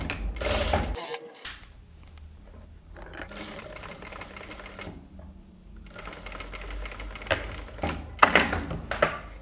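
A sewing machine stitches binding onto a skirt pocket in short bursts of rapid clattering, stopping and restarting, with a few louder taps near the end.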